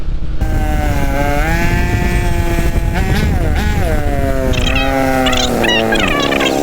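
A heavy motorcycle wades through flood water on a street flooded by Typhoon Kristine. Its engine drones loudly and steadily throughout, the pitch rising and falling as the throttle changes.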